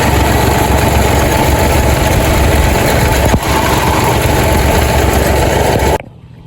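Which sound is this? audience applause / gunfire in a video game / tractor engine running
tractor engine running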